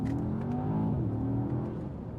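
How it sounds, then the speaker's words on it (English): A Mercedes E63s accelerates hard, its engine note rising in a loud, continuous drone with a faint whooshing hiss from the blow-off valve, heard from inside the car. "It's got a blow-off valve."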